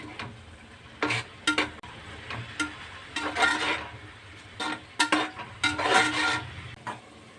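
A spoon stirs biryani masala through capsicum coconut rice in a pan, making repeated scraping strokes in uneven bursts over a faint, low sizzle.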